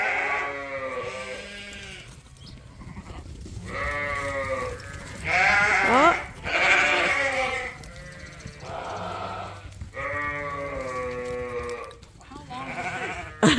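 Sheep bleat loudly and close by on a farm on a warm day, a series of long wavering calls from several animals, one after another with brief pauses, over low background noise.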